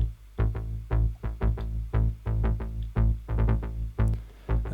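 Filtered-down dubstep synth bass made with Ableton's Operator, pulsing in short rhythmic stabs with a dark, muffled low-end tone and no voices.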